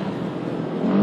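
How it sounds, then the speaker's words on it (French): A CFMOTO CFORCE 550 ATV engine roars steadily while the quad climbs a hill at around 70 km/h, giving a continuous, close, loud drone that swells slightly at the end. "on peut écouter le moteur qui rugit"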